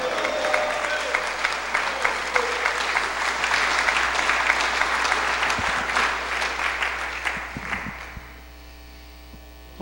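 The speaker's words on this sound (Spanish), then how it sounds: "Un aplauso a Cristo en esta hora" A congregation at a prophetic conference on Israel bursts into loud, dense applause that holds steady for several seconds and then fades out, with a low electrical hum running underneath throughout.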